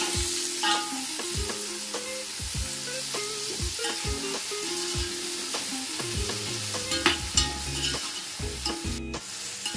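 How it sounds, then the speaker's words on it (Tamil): Chicken for biryani frying until brown sizzles loudly in the pan, with constant stirring and rhythmic scraping and tapping of a spoon against the vessel throughout. "நல்லா ப்ரௌனாக வர அளவுக்கு நல்லா ஃப்ரை பண்ணி எடுத்துக்கலாம்."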